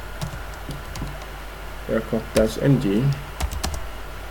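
Rapid keystrokes on a computer keyboard enter a Wi-Fi password-cracking command, close and clicky, with someone speaking briefly over the typing.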